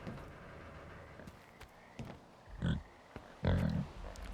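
A pig in a zombie shooter video game gives two short grunting oinks, the second louder, with faint clicks and game sounds between them.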